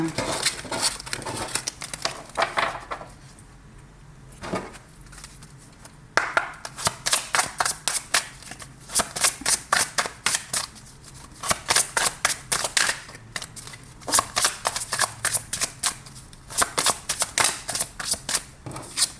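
Tarot cards are shuffled repeatedly for a reading, giving bursts of crisp riffling and clacking in quick rhythmic runs with short pauses, and a voice briefly talks in between.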